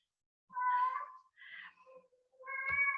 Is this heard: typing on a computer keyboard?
no